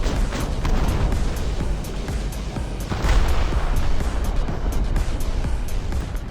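Rapid bursts of anti-aircraft cannon fire in War Thunder, loud and continuous, with booming impacts and rumbling explosions layered throughout.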